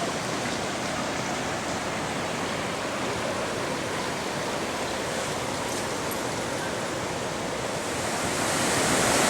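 River water rushes over rocks at Hospital Rock in Sequoia National Park in July, a loud, steady, broadband roar of cascading flow that continues unbroken and swells slightly toward the end.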